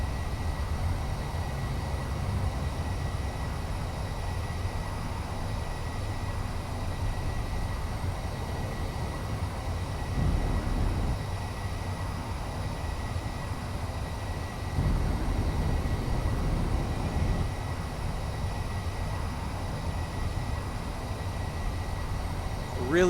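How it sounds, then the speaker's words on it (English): Ion thrusters in Space Engineers give off a steady, low droning hum that holds for the whole stretch, with slight swells in loudness partway through. "I love the sound of those ion thrusters"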